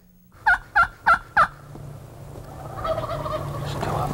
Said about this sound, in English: They're in a full strut. They're stopping and gobbling